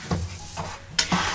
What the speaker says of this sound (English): cooking the onion, Yeah, the garlic chopping that out